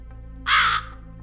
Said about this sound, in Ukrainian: Крук задоволено каркнув